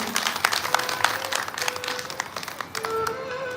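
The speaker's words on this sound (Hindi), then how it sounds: "एक बार जोरदार तालियां आप खुद के लिए ही बजा दीजिए।" An audience at a Hindu satsang on Krishna's childhood pastimes claps loudly for itself, a dense, sustained round of applause that fills the whole stretch, with a few voices calling out over it.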